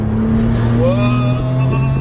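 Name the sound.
1992 Suzuki Carry kei truck engine intake noise, third gear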